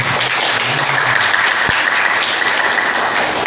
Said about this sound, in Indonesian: Sekali lagi tepuk tangannya yang semangat lah.